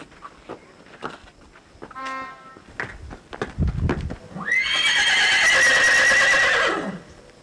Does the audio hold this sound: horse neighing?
yes